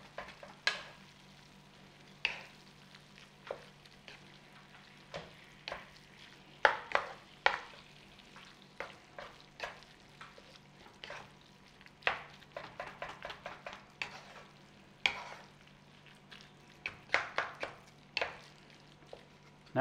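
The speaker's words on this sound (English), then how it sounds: "All we've got to do is break up the mince with our paste and keep cooking." Beef mince frying with paste in a pan for keema, with quiet sizzling under frequent scraping and stirring knocks of a utensil against the pan, fairly close.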